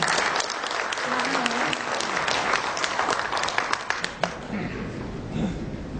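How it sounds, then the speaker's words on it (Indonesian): A seminar audience applauds a speaker, dense, sustained clapping that fills the room and gradually thins toward the end, with voices audible underneath. "Kita berikan tepuk tangan pada beliau."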